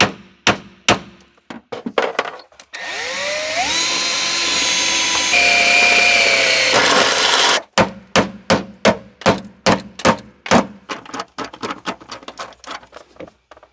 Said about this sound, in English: what you just saw is the installation of a nut cert.